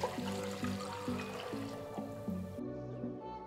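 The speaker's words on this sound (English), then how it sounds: "Pour the chicken stock back into the pot." Chicken stock pours into a pot for egg drop soup, a faint liquid trickle and fill sound that stays soft and continuous beneath a quiet, rhythmic tonal background.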